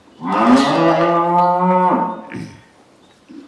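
A dairy cow on a large farm gives one loud, close, drawn-out moo lasting nearly two seconds, followed by a softer grunt and quiet surroundings.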